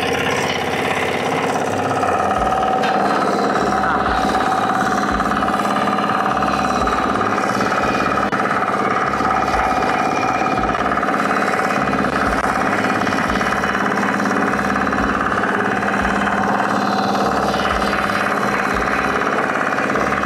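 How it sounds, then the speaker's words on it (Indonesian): Mini tractor FTI2010DE III engine running steadily in third gear over soft, loose soil, a loud continuous diesel chug with a rapid knocking pulse throughout. "saya akan coba gigi 3"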